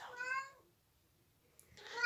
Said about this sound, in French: Ce chat, en fait, veut aller dehors.